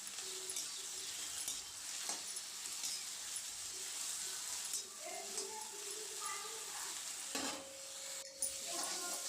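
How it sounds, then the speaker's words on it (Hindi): Bitter gourd (karela) leaf greens and potatoes frying together in a pan in Chhattisgarhi home cooking, a steady close sizzle with occasional stirring scrapes, and a few brief background sounds near the end. "तो भाजी ला आलू के संग में बढ़िया से भून लेबो भाजी लगी।"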